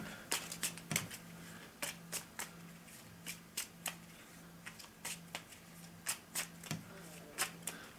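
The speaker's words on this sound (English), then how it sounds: "So I'm shuffling these up" Repeated riffle shuffles of a 30-card dungeon deck for the board game Dungeon Raiders, crisp bursts of flicking cards in an irregular rhythm, close and fairly quiet with no talking.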